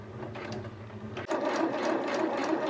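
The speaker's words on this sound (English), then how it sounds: "The next thing that I need to do right now is stay stitch all of the fabric." Sewing machine running steadily while stay stitching slippery satin fabric for a cowl neck slip dress, a continuous motor whir with rapid stitch rhythm that briefly pauses then resumes slightly louder, close by with no talking.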